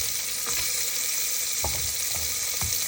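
Chopped carrots and beans fry in a pan for a biryani, giving a loud, steady hiss with a few soft stirring scrapes and pops throughout.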